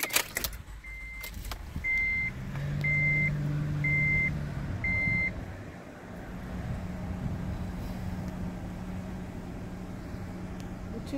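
A 2012 Honda Odyssey engine starts after a series of five evenly spaced electronic chime beeps, settling into a low, steady idle hum close by, with faint cabin handling noises.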